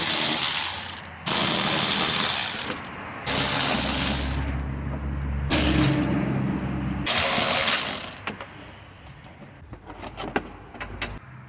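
A ratchet and socket loosening 10mm bolts on the plastic engine cover of a Toyota RAV4, loud bursts of rapid clicking separated by short pauses, ending in scattered lighter taps and clinks.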